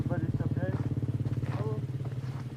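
A Honda CBR 125 motorcycle engine runs with a steady, rapid low pulsing throughout. Voices talk over the running engine.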